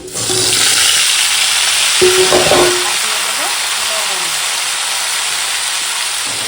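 Cut vegetables dropped into hot oil with lightly fried onions and tempering spices hiss and sizzle loudly and steadily, with a brief clatter of stirring near the start and talk faintly in the background.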